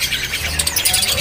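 Gelatik belong birds at a bird-selling kiosk chirp continuously: a dense, bright twittering of several birds close by, with a low background rumble underneath.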